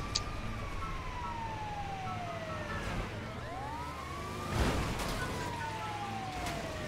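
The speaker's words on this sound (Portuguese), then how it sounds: "Ambulância." An ambulance siren in GTA 5 Online, wailing tones sweeping up and down over steady traffic and engine noise, moderately loud, with a brief thump partway through.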